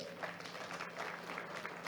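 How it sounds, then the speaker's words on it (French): Audience applause at an investment conference in Côte d'Ivoire, steady and moderately distant, a dense wash of clapping filling the room without clear individual claps. "Je vous prie de l'applaudir, s'il vous plaît."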